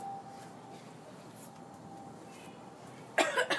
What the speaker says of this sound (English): I'm just coughing because it's strong.